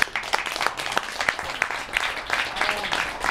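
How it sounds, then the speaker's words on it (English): An audience at a gaming panel event claps steadily, a dense, moderately loud round of applause that carries on throughout. "So let's give a round of applause to the panel"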